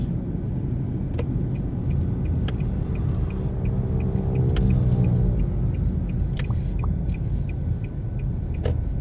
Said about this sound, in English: So we're doing a drive around ZIADIE Gardens.